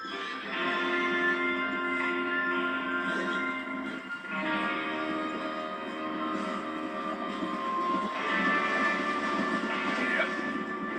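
A train in Red Dead Redemption 2 rumbles steadily along, a dense mechanical drone with tonal whine and clatter that holds at an even level for the whole stretch.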